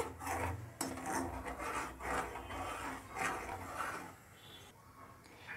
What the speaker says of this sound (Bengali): এভাবে আমি দুই তিন মিনিট নাড়বো